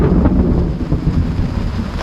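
Thunder rumbles low and steady after a lightning strike during a storm at sea aboard a boat, a loud sustained roll with rain and wind noise mixed in.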